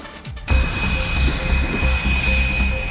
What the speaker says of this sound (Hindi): एलओसी पर गरज रहे भारतीय फाइटर जेट।